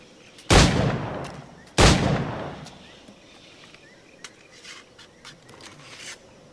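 Two loud, sharp firearm shots about a second apart in the pirate-era video game Assassin's Creed 4: Black Flag, each with a decaying echo, followed by quieter clatter and movement.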